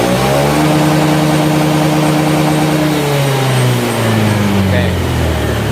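A stock Honda Beat 2021 scooter with an unmodified CVT revs up close and loud, its engine note climbing then sliding down in pitch as the throttle eases, with a voice speaking over it.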